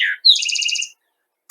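A short bird song: a brief high note, then a quick rhythmic trill of repeated chirps, clear and close, followed by a tiny click.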